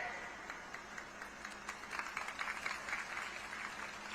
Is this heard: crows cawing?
no